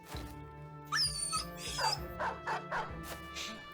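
Dog yelping, whimpering and barking in the video game Battle Brothers, several short cries over a steady game music bed, with no talk.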